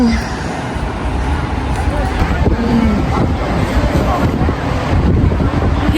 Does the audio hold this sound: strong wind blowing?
yes